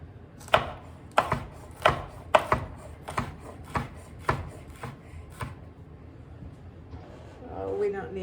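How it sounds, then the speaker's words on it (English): Knife chopping jalapeno peppers on a cutting board, about ten crisp evenly spaced thuds that slow and stop, close and clear, with a voice starting to talk at the end. "chop my jalapenos"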